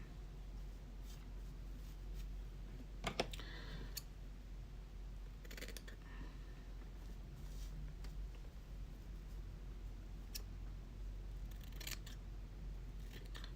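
Scissors snip and trim fly-tying materials at a vise while finishing a Game Changer fly, a few crisp cuts clustered together over a steady low room hum, fairly quiet and close.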